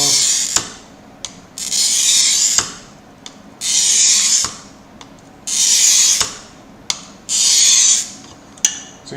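Blade scoring freehand lettering cuts, five long rasping strokes in a regular rhythm with sharp clicks and snaps between them, close and loud, with no one talking.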